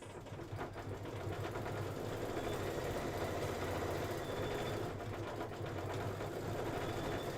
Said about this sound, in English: I'm gonna go ahead and do my little scallops. That's 5 minutes of stitching.